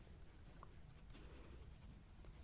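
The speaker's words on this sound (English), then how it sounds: "Let me write this down." Something being written down by hand, a quiet, faint scratching of strokes over a low steady background hiss, with no talking.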